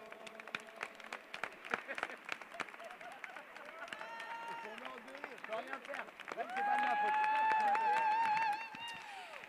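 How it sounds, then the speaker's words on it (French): Crowd at the 2024 French para-climbing championship in Tarbes clapping for medal winners at the victory ceremony, scattered steady applause with chatter and cheering, plus a loud sustained whistle or tone near the end. "Bravo les gars, on peut les applaudir bien fort."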